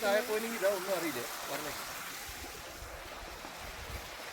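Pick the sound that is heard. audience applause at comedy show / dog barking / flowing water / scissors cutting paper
flowing water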